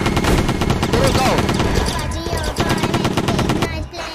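Rapid automatic gunfire rattles in a video game, Deeeer Simulator, with dense bursts of shots firing close and loud almost without a break.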